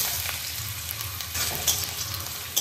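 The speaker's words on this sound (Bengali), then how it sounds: "আলুটা আমি বেশ ভালো করে ভেজে নেব।" Potatoes fry in mustard oil in a pan with a steady, close sizzle and crackle, alone throughout.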